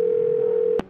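A steady telephone dial tone plays loud and close when a call is placed in the video game Do Not Feed The Monkeys, holding one pitch before cutting off with a brief click.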